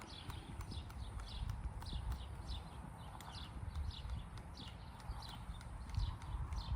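A horse trots in an arena during a sitting-trot exercise without stirrups, its hooves clip-clopping in a steady rhythmic beat, fairly near, over a low rumbling background.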